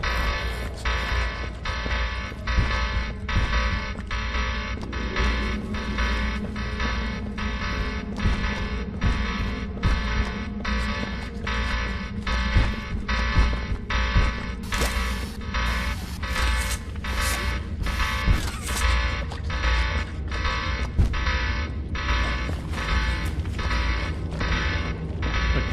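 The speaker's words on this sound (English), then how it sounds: "the alarms are going" Alarms blare through an abandoned toy factory in the game Poppy Playtime, a loud, steady pulsing electronic wail that repeats in a regular rhythm over a droning mechanical hum.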